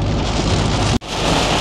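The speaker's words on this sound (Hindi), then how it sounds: "और क्या झमाझम बारिश हो रही है।" Heavy monsoon rain pours down on the NH 544 highway, a dense, loud, continuous hiss broken by a brief dropout near the middle.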